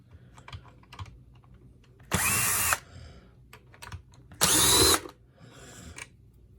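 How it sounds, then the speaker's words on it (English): A power screwdriver backs two screws out of the cover of a Kirby G4 vacuum cleaner, with two loud whirring bursts about half a second each, separated by quiet clicks and handling. "no, these two screws come out."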